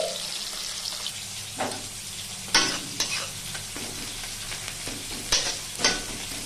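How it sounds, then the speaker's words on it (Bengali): Fish rubbed with salt and turmeric fries in hot mustard oil, a steady sizzle running underneath while a spatula scrapes and knocks against the pan in scattered bursts, with one louder clatter near the end. "এইদিকে আমি গরম সরিষার তেলে লবণ হলুদ মাখিয়ে রাখা মাছ আমি ভেজে দিচ্ছি।"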